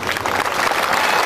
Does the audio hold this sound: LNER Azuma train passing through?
no